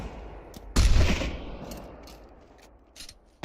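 In the VR shooter Pavlov, a grenade blast booms close by, followed by scattered bursts of gunfire and sharp reports fading into the background.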